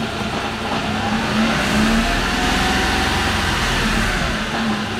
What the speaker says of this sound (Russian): Включаю четвертую передачу.